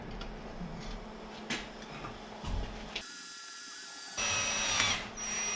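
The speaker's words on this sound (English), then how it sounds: "then I'm going to start both of these holes, and then we'll take that off and drill them" A power drill bores holes in metal clamped in a vise while new lights are fitted to a dump truck. The drill whirs steadily at a moderate distance, then breaks into a louder, harsher high-pitched whine and grinding near the end.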